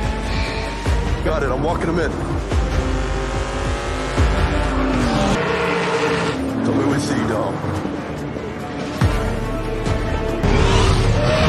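Racing cars in a film scene roar past at speed with tire squeals and skidding bursts, one car ramming another, mixed with a continuous speaking voice over the engine noise.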